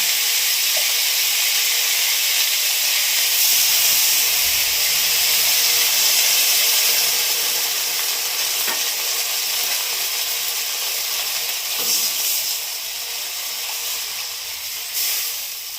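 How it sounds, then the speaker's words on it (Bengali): Water with turmeric boiling in a cooking pot makes a steady, fairly loud rushing hiss that carries on throughout, with occasional faint clinks. "জল ফুটে উঠছে"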